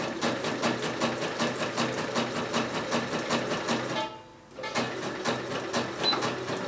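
A sewing machine stitches trouser fabric in fast, even mechanical bursts, with a brief pause partway through before the rhythmic stitching resumes.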